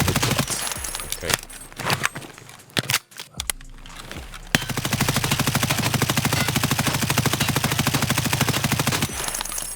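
M4 rifle gunfire in the video game Escape From Tarkov: a few scattered single shots, then a sustained rapid burst of automatic fire, loud and close.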